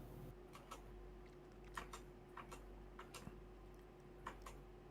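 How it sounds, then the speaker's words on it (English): Keystrokes from someone typing on a computer keyboard during an online voice call, heard as a quiet, irregular run of light clicks over a steady low hum. "Whoever typing, you can please mute."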